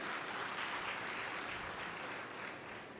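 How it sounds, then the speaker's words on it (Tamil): An audience claps through a talk by Kavitha Jawahar at a book fair, giving dense, even applause that holds steady and eases off slightly at the end. "இது உண்மையா இருந்தால் கைத்தட்டுங்க"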